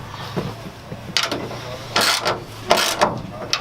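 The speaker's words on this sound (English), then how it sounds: "a size 14 or 9/16 socket will work on this nut." A ratchet wrench with a 9/16 socket tightens a nut on a truck bed rack mount, giving several short bursts of clicking pawl sounds at close range. No one speaks.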